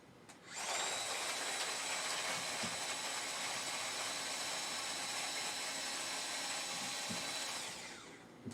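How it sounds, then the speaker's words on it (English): A loud, steady whirring motor of an electric garlic chopper runs for several seconds, spinning up quickly and then winding down, close by with no voices. "I have my garlic chopper here."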